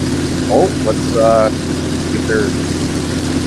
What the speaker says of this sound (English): the next startup of the Hercules engine that will be running here in a second on the trailer